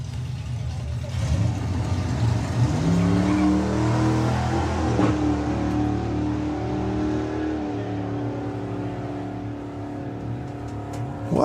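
Volkswagen Lupo drag car launching down the strip at Santa Pod during a VW drag racing qualifying round, its engine rising loud through the gears then fading with distance, while a commentator talks over it.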